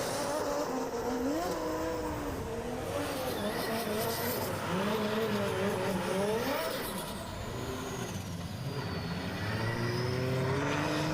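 Drift cars at the Emirates Drift Championship on the Yas Marina F1 track howl continuously, engines revving and wavering in pitch over a steady roar of crowd and tire noise, with a commentator talking over it.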